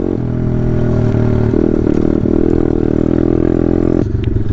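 A Taotao DB17 125 dirt bike rides over gravel in third gear, its engine droning loud and steady with a rough, bumpy rattle, then the pitch drops sharply near the end as the throttle eases off.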